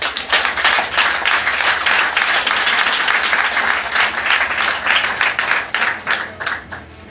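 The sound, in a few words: applause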